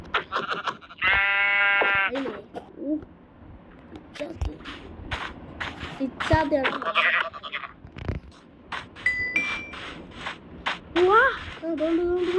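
A sheep bleats loudly near the start, with more bleats and a voice breaking in among rustling and other chatter.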